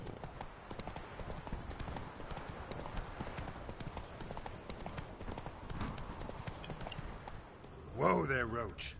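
Roach, the horse in The Witcher 3, gallops with a brisk, continuous clip-clop at moderate loudness, and a voice breaks in briefly near the end.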